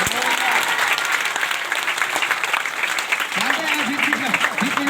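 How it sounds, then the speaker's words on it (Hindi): An audience claps in continuous, dense applause at a spiritual talk, loud and steady throughout, with a voice speaking over it toward the end. "अरे ताली बजा के धन्यवाद।"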